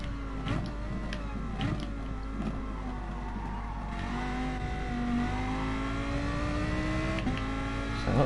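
GR4 race cars in the Gran Turismo Sport video game at Monza, a steady engine drone with rising and falling pitch as several cars run together, continuous and fairly loud throughout.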